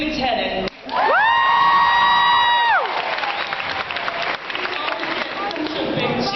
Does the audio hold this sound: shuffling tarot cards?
no